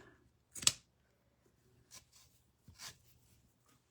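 Pinking shears snip through fabric in a few quiet, separate cuts: one sharper snip near the start, then softer ones spaced apart.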